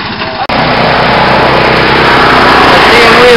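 A lawn tractor engine revs loud and close while the rider pulls wheelies, a sustained high buzzing roar that kicks in abruptly after a brief moment and holds steady.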